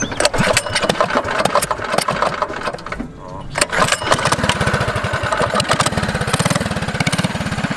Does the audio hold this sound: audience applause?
no